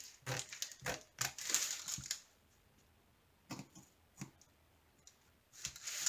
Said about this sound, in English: So I'm going to cut out the legend here.